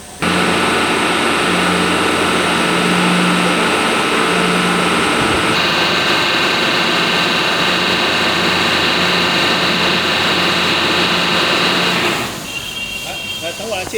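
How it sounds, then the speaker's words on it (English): Motor of an automatic direct cooling block ice machine running steadily, a loud continuous mechanical hum with a constant whine and a slight shift in tone partway through, close by with no talk over it. "Here this is the motor."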